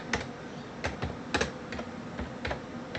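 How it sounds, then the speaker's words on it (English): Keys tapped on a computer keyboard as a command is typed, a sparse run of crisp clicks at uneven intervals, close and fairly quiet with no talk. "What you want to do instead is you type in the command code."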